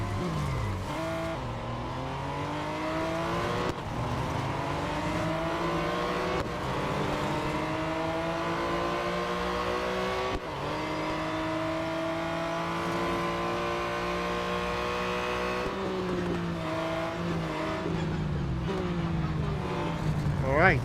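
Race car engines roar in a multi-lap racing video game, a continuous high revving whine with rising and falling gear shifts and occasional downshifts, steady and loud for twenty seconds, with a commentator talking over it.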